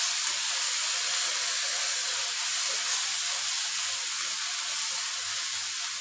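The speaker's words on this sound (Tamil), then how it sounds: "போதும், சும்மா லைட்டாக வதங்கினா போதும்." Cluster beans sauté in a hot pan, giving a steady close hiss and sizzle that runs unbroken throughout with no talk.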